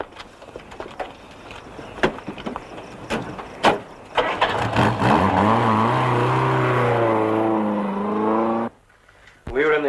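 Car engine roars up and revs as the vehicle pulls away, pitch climbing through gear-like sweeps, loud and close for several seconds before cutting off abruptly; earlier knocks and a voice come first.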